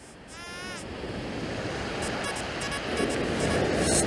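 Ocean surf washing onto a beach during metal detecting, a continuous rushing roar that swells louder toward the end, with wind buffeting the microphone.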